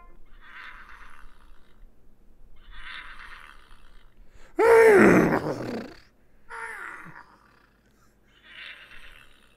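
A person imitates a horse neigh with a loud, wavering whinny, set between quieter breathy sounds.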